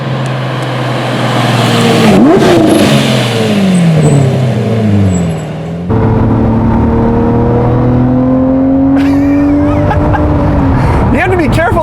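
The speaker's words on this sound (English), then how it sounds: "The sound with the downshifts is so good!" A Lamborghini Murcielago LP640 engine revs loudly and close on downshifts, its pitch sweeping up and falling in repeated blips and then a long steady pull, a brief voice speaking over the roar.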